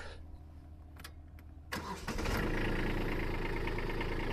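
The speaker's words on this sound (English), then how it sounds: "I'm going to fire up the tractor" After a few quiet clicks, a tractor engine cranks briefly, then roars to life and holds a loud, steady idle rumble.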